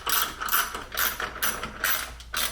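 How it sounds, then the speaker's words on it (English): Size 6 Allen key tightening DOWNSTAR titanium dress-up bolts on a BMW F80 M3, giving repeated close ratcheting clicks in short bursts with brief pauses between turns. "These two front ones you're going to tighten down with a size 6 Allen key."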